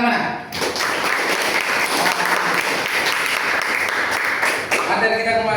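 Children clapping together in a classroom, a dense, steady burst of applause lasting several seconds, with a voice speaking briefly over it near the start.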